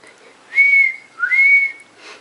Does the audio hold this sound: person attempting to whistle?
yes